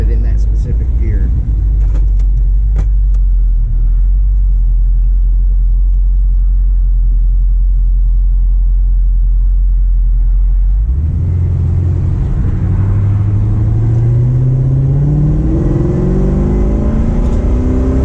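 An LS-swapped Nova idles with a deep steady rumble, then roars as it accelerates, its engine pitch climbing through rising gear changes, loud and close from inside the car.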